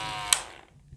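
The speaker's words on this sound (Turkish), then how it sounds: "Bir tık ilerlettiğimiz zaman daha hızlı çalışıyor arkadaşlar makine." A Powertec 3200 electric hair clipper gives a bright, buzzing hum that ends in a sharp click, then the motor winds down quickly into near silence.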